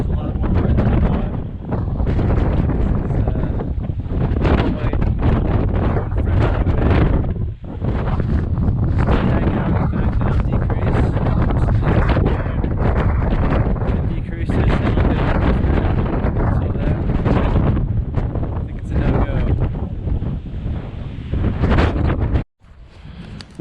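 Heavy wind buffeting an outdoor microphone at a snow wind-slab data collection site, a loud continuous low rumble with gusting surges nearly throughout, dropping out briefly near the end.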